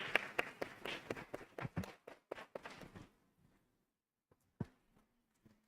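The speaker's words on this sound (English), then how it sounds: "Let's give them a round of applause." An audience breaks into applause, a burst of claps and taps at close range that thins out and fades to near silence after a few seconds, with a couple of stray sounds afterward.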